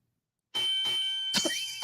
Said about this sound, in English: I think I have a bell ring